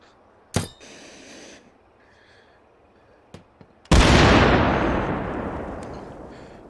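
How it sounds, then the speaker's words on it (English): A frag grenade in the H3VR virtual reality game goes off as one loud, close blast with a long fading rumble, after a few sharp clicks and faint handling noises in near silence. "Frag grenade"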